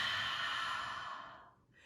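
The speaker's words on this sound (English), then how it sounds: "Take a nice big breath in. Fog up the mirror." A single slow, deep ujjayi inhale, breathy and close like fogging a mirror, that fades out near the end.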